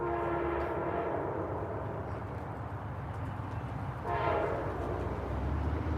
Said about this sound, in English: We're gonna wait till the train goes by.